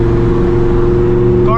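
Lamborghini engine droning loud and steady at cruising speed on a winter drive, a constant low rumble with strong harmonics and a brief rise in pitch at the very end.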